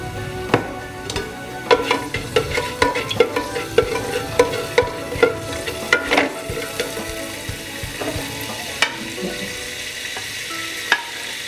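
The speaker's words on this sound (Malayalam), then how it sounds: "ഇനി ഇതിലേക്ക് നേരത്തെ എടുത്ത് വെച്ച പട്ട, ഗ്രാമ്പു, ഏലക്ക ഇത് ഈ എണ്ണ ചൂടായി വരുമ്പോൾ നമുക്ക് ഇട്ട് കൊടുക്കാം" Whole spices such as cinnamon, cloves and cardamom hit hot oil for an idivettu chicken dish, giving a steady sizzle punctuated by sharp clicks and stirring taps of a utensil against the pan, close and clear with no talk.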